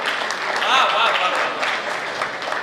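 A crowd at a Hindi kavi sammelan poetry recital claps in a dense, continuous ripple. A voice speaks briefly over the middle of the applause, which stays steady and fairly close throughout.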